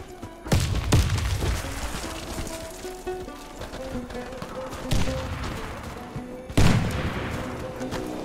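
A grenade explodes in a Warface ranked match, with heavy booming blasts standing out against ongoing gunfire and game noise, the loudest hits landing near the start and again late.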